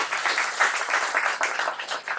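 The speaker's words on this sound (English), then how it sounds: "please give them a big round of applause" Audience clapping at a building's grand opening, a dense patter of many hands, moderately close and continuous for a couple of seconds.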